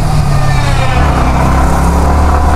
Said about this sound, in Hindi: अभी मैं ओवरटेक करने की कोशिश कर रहा हूँ।